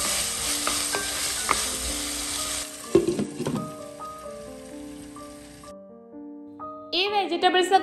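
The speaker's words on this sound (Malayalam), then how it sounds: "സവാള എണ്ണയിലൊന്ന് വാടി വരുന്ന ടൈമിൽ ഇതിലോട്ട് നമ്മൾ കട്ട് ചെയ്ത് വെച്ചിട്ടുള്ള കിഴങ്ങും ക്യാരറ്റും പച്ചമുളകും കൂടെ ചേർത്തിട്ട് എല്ലാം കൂടെ എണ്ണയിൽ നല്ലപോലെ ഒന്ന് വഴറ്റിയെടുക്കുക." Onion, potato, carrot and green chilli sautéing in hot oil, a soft continuous sizzle with intermittent scraping and stirring clatter, plus scattered clinks and faint background music toward the end.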